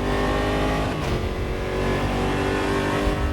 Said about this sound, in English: The sounds in AMS2 are probably among the best in sim racing